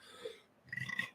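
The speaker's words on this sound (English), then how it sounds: "Sorry, this energy drink's making me burp." Quiet throaty burp after drinking an energy drink, a brief low gurgle followed by a rougher belch lasting under a second, with no talk over it.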